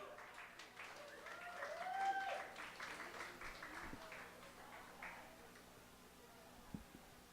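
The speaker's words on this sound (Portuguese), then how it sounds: "Uma salva de palmas" Faint, distant applause from a small audience at an open-mic poetry night, with soft scattered clapping building toward the middle and then thinning out, plus a little background noise.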